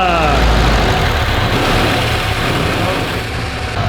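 A SAAB 96 barn-find car engine starting and settling into a steady, loud, close idle with a rough low rumble.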